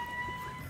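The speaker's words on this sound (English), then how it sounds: "When the patient dies, the alarm, the ambulance goes off." Electronic alarm tone from an Operation board game when the patient dies, a short, thin steady beep at moderate volume over background hiss.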